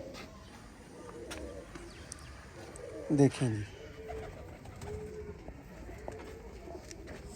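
Sialkoti pigeons of a prized breeder pair coo briefly in a short burst near the middle, close by, set against quiet background noise with someone talking.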